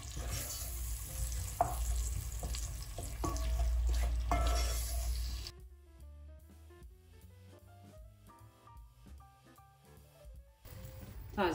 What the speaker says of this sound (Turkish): Soğanlar yumuşayıncaya kadar kavuruyorum.